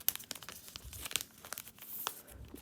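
A plastic resealable bag is handled up close, giving soft, irregular crinkling and rustling bursts that are fairly quiet and unbroken by speech.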